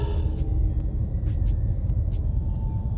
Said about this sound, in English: Sitting in traffic on Interstate 4